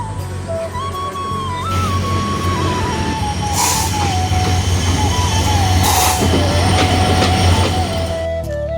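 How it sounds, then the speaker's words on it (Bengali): A train pulls into a station with a loud, steady rumble, rattling wagons and high squealing wheels that rise and shift throughout, plus a couple of sharp hissing bursts, all close by and without any talk. "ট্রেন আসছে"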